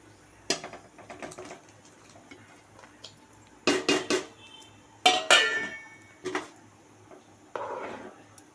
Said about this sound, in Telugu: పచ్చిమిర్చి, టమాటోస్ 2 ఒకటేసారి వేసుకుందాం